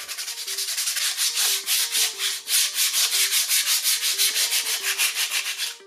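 Sandpaper keying a surface before painting, rhythmic back-and-forth rasping strokes, loud and close, about twenty regular passes with no talk.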